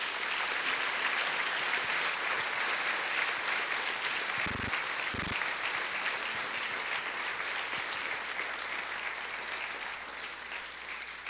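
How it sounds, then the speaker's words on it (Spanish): Steady, full applause from a church congregation praising God, a dense roar of many hands that holds for about eleven seconds and eases slightly toward the end, with no voices over it. "Yo le invito a que le dé un fuerte aplauso a Dios"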